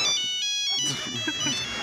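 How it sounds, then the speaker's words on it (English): A mobile phone ringtone plays a bright electronic melody during a convention opening ceremony, loud and steady, with voices talking over its second half. "My phone rings."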